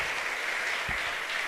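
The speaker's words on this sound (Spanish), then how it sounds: "Démosle palmas al Señor." Church congregation clapping together in praise during a Spanish-language service, a steady wash of applause filling the whole moment without anyone speaking.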